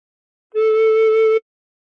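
A single steady recorder note played with the thumb hole and two finger holes covered, held for just under a second as one clean sustained tone with no talking.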